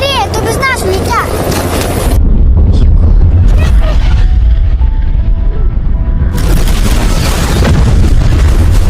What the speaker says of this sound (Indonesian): ada ledakan kecil di buritan kapal tanker